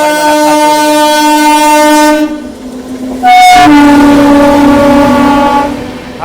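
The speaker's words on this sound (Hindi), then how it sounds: "आजाद निजामुद्दीन त्रिवेंद्रपुरम सेक्टर स्वर्ण जयंती सुपरफास्ट एक्सप्रेस।" Nizamuddin–Thiruvananthapuram Swarna Jayanti Superfast Express passing near Agra Cantt outer, loud and close throughout, with steady wheel and engine hum, a sharp horn blast partway through, then continuing rumble.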